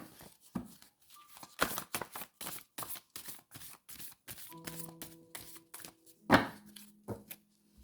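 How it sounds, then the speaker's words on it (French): Tarot cards being shuffled by hand: a run of quick, crisp riffles and slaps close by, irregular in rhythm, with one sharper knock near the end and no speech. "Je remélange toujours."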